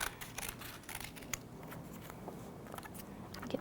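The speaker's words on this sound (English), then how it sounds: "you're going to use your scissors to carefully cut" Scissors snip through paper while cutting out an oval drawing for a craft, soft crisp clicks and crunches repeating close by at low volume.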